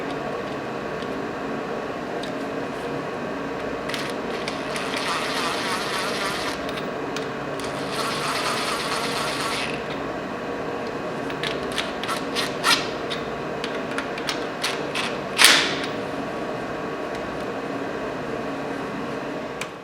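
A ratchet tightens factory bolts during assembly of a 427 big-block Chevy engine, with bursts of rasping clicks followed by scattered sharper ticks close to the microphone over a steady background hum.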